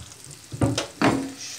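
Sucuk sausage frying in a small amount of olive oil in a pan, giving a steady close sizzle that swells into two louder crackling bursts as the pieces are moved.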